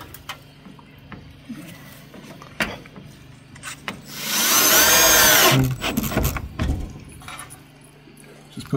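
A power drill drives screws into a vintage camper with water damage, one loud whirring burst of about a second and a half standing out amid scattered clicks and knocks of nearby work.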